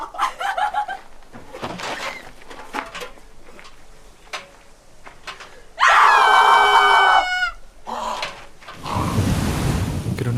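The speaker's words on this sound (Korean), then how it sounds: "주인은 놀라 비명을 지르며 도망가죠." A woman screams in a scene from the Korean film Classic, one sharp loud shriek standing out among outdoor wind and water noise, followed by a rushing burst.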